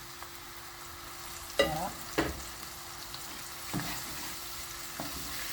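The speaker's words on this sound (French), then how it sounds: "Je viens rajouter des épices avec un petit peu de tomate concentrée. Je mélange tout ceci" Spices and tomato paste stirred in a frying pan, with soft scraping strokes and a few louder utensil knocks over a faint steady sizzle; one brief spoken word near the end.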